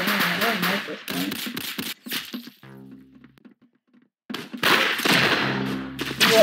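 Revolver shots fire in the online shooter game Arsenal, sharp cracks coming in quick bursts with a pause in the middle, loud and close, mixed with game noise and a faint voice.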